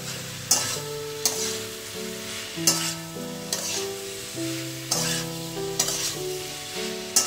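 A spatula stirs vegetables into a spice masala frying in oil for a cauliflower and egg curry, with a steady sizzle and periodic sharp scrapes against the pan roughly every second, close up and with no talking.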